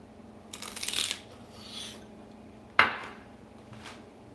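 Someone eating crunchy food, a bite of celery used as a spoon for soup: a louder crunching burst at the start, then one sharp, close crunch a moment later, with quiet pauses between.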